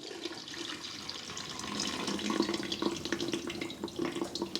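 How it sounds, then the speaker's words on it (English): Pork drippings poured into a pitcher in a steady, close liquid trickle and gurgle that swells and thickens midway, with no talking. "we are pouring the pork drippings into the pitcher."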